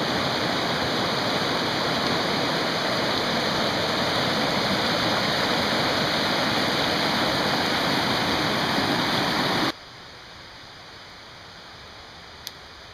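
Zig Zag River rushing loudly close by, a steady broadband roar of fast water that runs unbroken for about ten seconds before dropping abruptly to a much quieter wash with one brief click.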